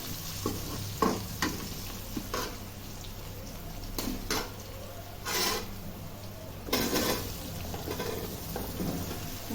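Potatoes sizzle and fry steadily in a pan, punctuated by scraping stirs and clinks of a utensil against the pot.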